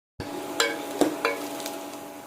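Chopped onions with curry leaves and spices sizzling in a pan for beef curry, a steady close fry broken by a few sharp clinks and scrapes of a stirring spoon.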